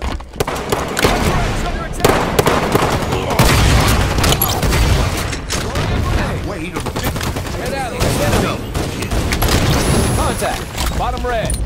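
Dense gunfire in a Halo 5 Slayer multiplayer match, loud bursts of automatic fire and single shots with booms layered close together, running almost continuously under in-game announcer callouts and voices.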